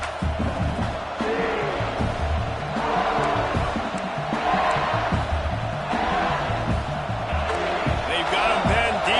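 A packed football stadium crowd roars and cheers in a continuous loud swell, with a commentator talking over the noise throughout.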